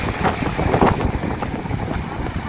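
Steady wind on a seaside beach at Lazarevskoye, Sochi, buffets a nearby microphone with a low rumbling roar, gusting slightly louder near the start.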